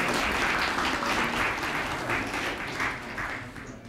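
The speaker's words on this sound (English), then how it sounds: "You can clap for yourselves if you want to." An audience at a storytelling discussion claps for itself, a full burst of applause that fades slightly toward the end, with no talking over it.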